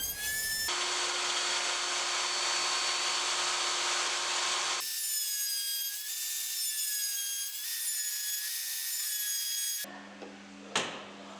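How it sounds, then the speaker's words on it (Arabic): A wood router fitted with a dovetail bit cuts into a workpiece on a router table, giving a loud, steady high-pitched whine that shifts pitch partway through, then winds down to a fading hum near the end. "هنقطعها على طاولة الراوتر باستخدام بونت الديل اليمامة"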